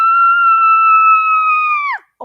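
A woman lets out one long, high, sustained scream while singing the crocodile verse of the nursery rhyme Row, Row, Row Your Boat. The loud scream holds steady for about two seconds, then drops in pitch and cuts off, followed by a brief faint sound.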